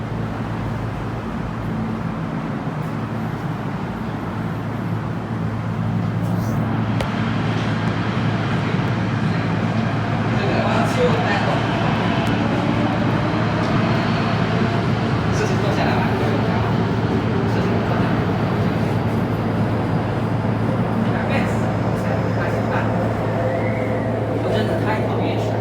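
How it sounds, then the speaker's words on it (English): Metro train pulling into Quarry Bay station in Hong Kong, a steady low rumble and whine building on the busy platform, with people talking over it throughout. "And M train coming in"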